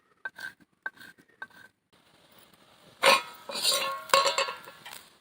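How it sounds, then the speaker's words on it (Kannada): A knife cuts fresh coriander leaves for kokum rasam, first a few sharp spaced taps on the board, then a louder, busier run of scraping and clattering strokes, with no talk. "ಪುನರ್ಪುಳಿ ಸಾರಿಗೆ ಸ್ವಲ್ಪ ಕೊತ್ತಂಬರಿ ಸೊಪ್ಪು ಕಟ್ ಮಾಡಿ ಹಾಕುವ."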